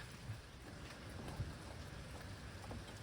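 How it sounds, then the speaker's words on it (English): Rain falls steadily outdoors during a car accessory install, a soft continuous hiss with a few faint low thumps, no voices. "All right, it's raining"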